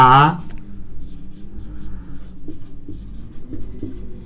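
Writing on a board during a Class 12 chemistry lesson on equivalent weight makes faint scratchy strokes and taps after a short burst of a voice, with a steady low room hum underneath.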